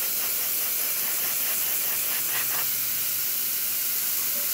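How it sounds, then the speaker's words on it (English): A loud, continuous steam hiss from a Rocket Appartamento espresso machine steam wand runs the whole time, strong and close, with a brief sputtering burst in the middle. "we're going to test the steam wand first"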